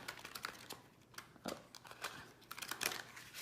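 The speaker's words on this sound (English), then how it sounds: "Go get one more good shuffle in." Quiet crisp riffling and snapping of a deck of cards being shuffled for a psychic reading, a few short irregular bursts of flicking and slapping, close and soft.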